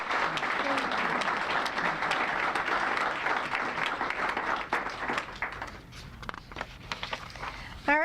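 Sustained audience applause at a government Asian Pacific American Heritage Month ceremony, dense clapping from a full room that thins out toward the end into scattered claps and shuffling.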